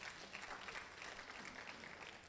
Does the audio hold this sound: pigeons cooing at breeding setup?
no